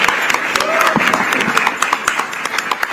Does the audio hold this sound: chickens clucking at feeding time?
no